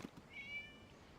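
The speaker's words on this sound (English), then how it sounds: "It was just a cat." A cat in the video game Genshin Impact lets out a single short, faint meow against a quiet background.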